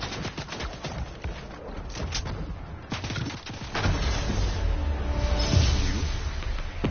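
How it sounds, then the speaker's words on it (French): Video game gunfire crackles in rapid, irregular bursts of shots, loud and close, shifting into a denser, rumbling barrage of fire toward the end. "Ah, on tire dessus."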